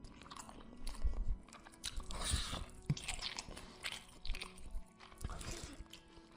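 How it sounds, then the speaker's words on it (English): Wet, crunchy chewing and biting, as if someone is eating something in a dark stairwell leading down to a ship's lower cabins, coming in irregular bursts of mastication with moist smacks over several seconds. "A low, wet sound. Not mechanical. It was like someone chewing something."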